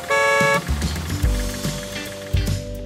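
A toy purple dump truck sounds a bright, tonal horn blast, followed by a few short bumps and knocks and softer repeated tones, close and clear.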